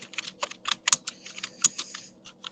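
Typing on a computer keyboard, a quick irregular run of close, crisp key clicks with a couple of sharper taps, no voice.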